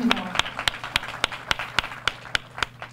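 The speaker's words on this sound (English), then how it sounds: "Let's give her another round of applause." Audience clapping for graduate Katrina McCombs at a Remarkable Grads 2017 event, heard as a dozen or so distinct, fairly steady claps at close range rather than a dense ovation, with faint voices beneath.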